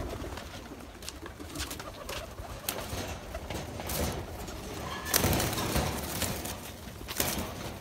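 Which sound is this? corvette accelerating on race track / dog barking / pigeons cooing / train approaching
pigeons cooing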